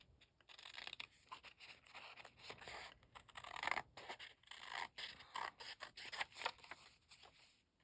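Scissors snip steadily through excess paper on a bird-themed junk journal page, a close run of short crisp cuts and scratchy rasps, quiet and with no talking.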